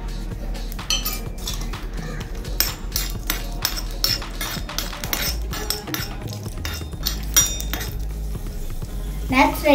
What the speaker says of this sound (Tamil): இப்போ நம்ம கீல நட்ஸ் ஃப்ரை பண்ண போறோம்.